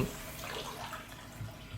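Water runs steadily from a tap into a cooking pot in a late-night horror noodle-cooking game, a faint continuous splashing hiss with no speech over it.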